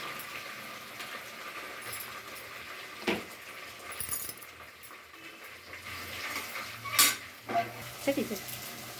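Onions fry and get stirred in a pan for a quick kushka rice dish, with a soft steady sizzle broken by occasional scraping and clinking of a utensil against the pan.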